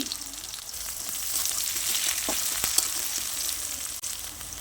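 Bitter gourd and slit green chilies fry in a pan with a dense, continuous sizzle, close and fairly loud, broken by a couple of soft stirring knocks, with no voices.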